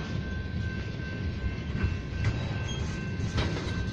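A Norfolk Southern oil train led by an RS5T locomotive passes with a steady, loud rumble and a constant tonal hum, with no talk.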